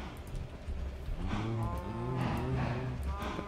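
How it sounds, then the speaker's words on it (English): Cows mooing in the Minecraft video game, two or three long loud moos overlapping one another close by over a low background rumble, with no speech. "Come here, cows."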